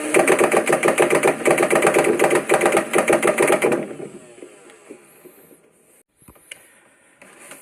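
Flywheels of a Nerf Rival Prometheus blaster spin up in a loud, close, pulsing motorized whir for several seconds, then wind down and fade to faint clicks and handling noises.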